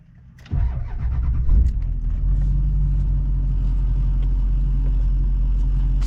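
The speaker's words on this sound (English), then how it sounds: "So I'll fire it up." A car engine cranks briefly and catches, then settles straight into a steady, deep idle rumble, loud and close, with no talking.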